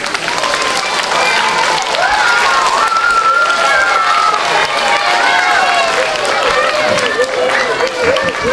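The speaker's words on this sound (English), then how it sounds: "let's give them a round of applause" A school audience applauds after a performance in an opera-singer presentation, loud continuous clapping mixed with cheering and excited children's voices throughout.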